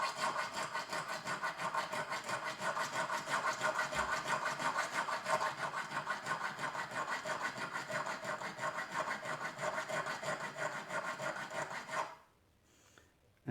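A hand file rasps steadily into the choil of a Spyderco Kapara knife, with quick continuous back-and-forth strokes, close and fairly loud, running for about twelve seconds and then stopping abruptly.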